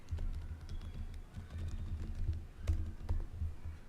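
A name being typed on a computer keyboard, a steady close run of soft key taps with a few heavier presses, no voices.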